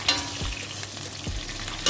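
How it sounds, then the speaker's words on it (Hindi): Sliced bitter gourd (karela) fries steadily in a pan, a continuous close sizzle with a couple of brief low thumps from stirring, no voices. "हमारे फ्राई हो रहे हैं करेले।"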